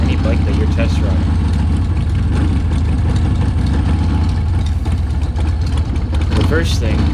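A 1986 Harley-Davidson Sportster 1100 idling as it warms up, its steady low engine rumble loud and close throughout, with a person talking over it.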